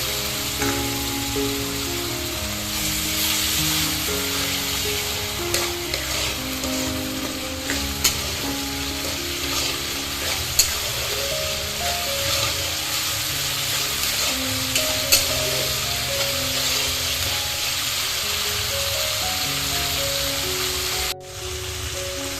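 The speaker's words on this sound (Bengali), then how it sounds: "সামান্য একটু জল দিয়ে মশলাটাকে ভালোভাবে আবারও কষিয়ে নিচ্ছি।" Spice masala stir-fried with a splash of water while a fish curry cooks sputters in a loud, continuous sizzle, a spoon scraping the pan now and then, with no talking.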